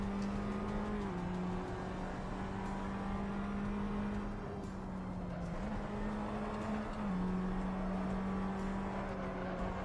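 Race car engine in the Assetto Corsa video game drones steadily throughout, a sustained loud tone that shifts pitch in stepped gear-like changes, with no talk over it.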